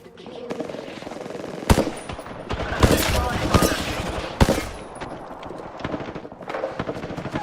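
Rapid automatic gunfire and single shots from the Apex Legends battle royale game ring out loud and near in several bursts over a continuous din of combat.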